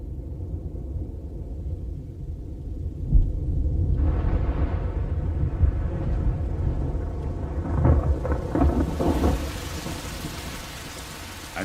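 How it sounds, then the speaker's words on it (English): A thunderstorm approaches over the Masai Mara in Kenya: steady rain hisses throughout while deep thunder rumbles and builds, with heavier crackling rolls late on and no voices. "On the Masai Mara, the storms of October approach."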